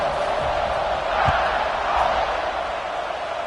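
Football stadium crowd at a college game roars ahead of the kickoff, a dense, loud, continuous wall of cheering that swells slightly twice.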